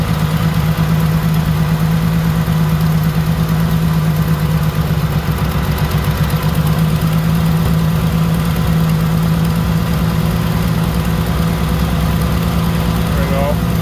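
A car engine idles steadily with its exhaust running evenly, a continuous low rumble with a constant hum throughout.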